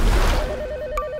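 A telephone rings with a steady, fast-warbling electronic trill that starts partway in and continues to the end. It sounds fairly close and clear over a low background rumble.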